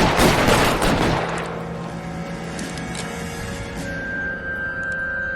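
A shootout in L.A. Noire opens with a dense, loud volley of overlapping gunshots that fades after about a second into a lower rumble and ringing tones.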